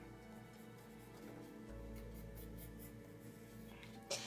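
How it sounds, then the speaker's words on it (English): A marker or pen scratches along fabric while a line is drawn for a homemade beach bag, a faint, soft stroke over a quiet room with a brief louder tap near the end. "and then drawing that line"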